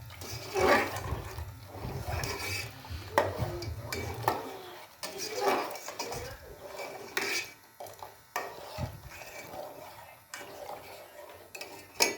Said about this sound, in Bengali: এবার দুধটাকে ভালো করে মিশিয়ে নিচ্ছি